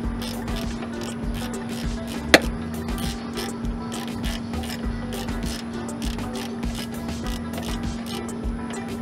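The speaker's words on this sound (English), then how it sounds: "So use a wrench, tighten it up on one side." Wrench tightening the mirror stud nut on a 2010-2015 Toyota Prius side view mirror, heard as a steady run of close mechanical ratcheting clicks with a single sharper click partway through, over a constant low hum.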